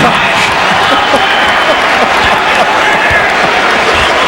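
Dense, loud crowd roar from Knicks fans at a Knicks vs. Lakers NBA basketball game, a continuous wash of cheering and clapping that fills the whole clip without letting up.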